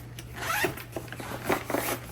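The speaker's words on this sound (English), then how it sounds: "It's got a zipper down here and a zipper up here for documents and things." Zippers on the compartments of a Level 8 carry-on suitcase are pulled in several short, close rasping strokes, crisp and near, with no talk over them.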